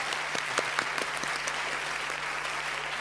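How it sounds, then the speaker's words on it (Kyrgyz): Audience at a Nooruz holiday concert applauds for a male vocal group, steady crowd clapping with a few sharp individual claps standing out near the start. "Кол чабуулар болсун"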